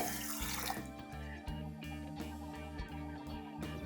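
Water pours in a soft, steady stream into sugar for syrup, with a low background hum, faint and close, with small splashing pulses.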